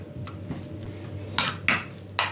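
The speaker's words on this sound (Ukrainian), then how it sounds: "Сюди ж додаємо майонез і все гарно перемішуємо." Grated hard cheese, garlic and mayonnaise being mixed in a bowl, heard as a soft scraping stir followed by a few sharp clinks of a utensil against the bowl.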